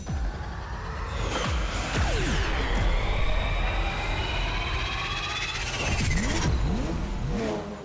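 A super-speed cartoon car roars in with a loud, sustained engine rev, rising and falling whooshes and sweeping tones layered over a steady rumble that swells near the end.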